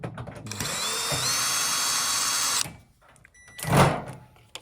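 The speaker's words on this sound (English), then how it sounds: "So remove all the screws on top." Power drill removing screws from a Zoom Digital HH-Series display, a close steady whir for about two and a half seconds that rises slightly in pitch, then stops, followed by a brief clatter.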